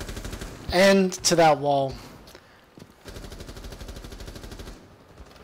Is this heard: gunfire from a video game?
yes